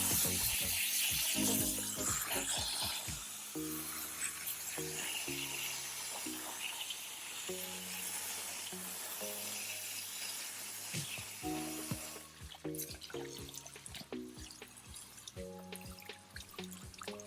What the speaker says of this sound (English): Just use your standard garden hose or run it under a tap.